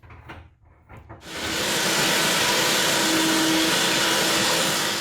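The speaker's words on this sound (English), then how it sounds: "cleaning it up a little with the vacuum" Vacuum cleaner working inside a project boat's torn-apart interior, a few soft handling knocks first, then the motor kicks on into a loud, steady whooshing roar that runs continuously to the end.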